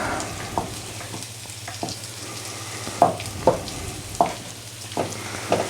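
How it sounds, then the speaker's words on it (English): Eggs fry and sizzle in an all-in-one cooking pan while a utensil stirs them into scrambled egg, a steady crackle broken by several sharp scrapes and knocks against the pan. "As long as you keep stirring them, that's what happens. They now turn into scrambled egg."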